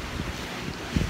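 Sea waves breaking against a concrete-lined shore with coral rocks on an open-sea beach on Madura island, a steady wash under wind buffeting the microphone, with a louder surge near the end.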